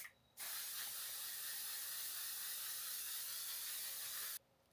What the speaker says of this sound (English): I'm gonna fully spray my face with that hairspray stuff